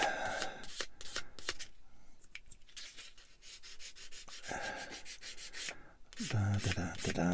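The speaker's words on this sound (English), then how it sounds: "you just stroke the sander across the bit, you should be fine." A sander stroked across a small plastic model kit part, close-up scraping rubs in short bursts and runs with brief pauses, quiet and with no talking.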